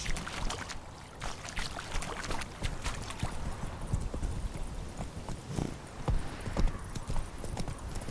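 In the video game The Witcher 3, the horse Roach clip-clops along at a steady walking rhythm, the hoof strikes close and distinct over a soft outdoor ambience.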